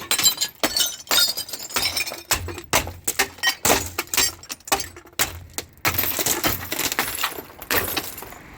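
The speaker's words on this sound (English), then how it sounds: "see if we can smash the glass." Repeated heavy hammer blows smash window glass in a building, each impact bringing a burst of cracking and shattering, followed by tinkling shards falling.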